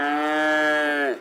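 A single cow gives one clear, close moo, a steady tonal call lasting about a second before it drops off at the end.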